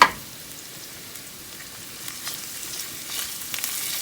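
Chopped garlic for marinara sauce sizzling in a pan, a faint steady crackle and hiss after a brief clatter at the start, light pops rising toward the end.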